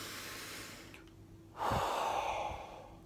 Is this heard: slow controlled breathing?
yes